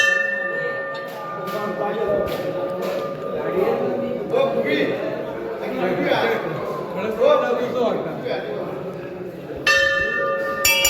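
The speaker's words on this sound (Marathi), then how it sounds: "घंटा वाजूया" Temple bells clang repeatedly amid a crowd, the metallic strikes ringing out over steady chatter and voices nearby.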